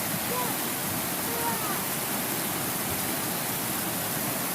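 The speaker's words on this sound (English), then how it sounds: "as you can see, this little waterfall" A small waterfall at a natural dam on a stream rushes in a constant broadband roar, steady and close throughout, with faint chirps above it.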